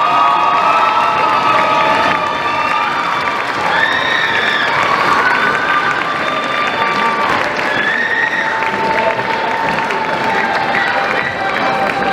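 A crowd at a Fasnet carnival event in 2020 applauds and cheers for the active handball players, women and men. Loud, sustained clapping mixes with whoops and shouts from the audience the whole way through.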